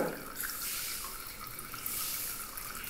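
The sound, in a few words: water draining from boiled taro leaves in a basket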